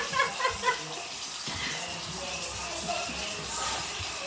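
Tap water runs steadily as a continuous hiss and gush, with a few brief sounds near the start and faint background voices.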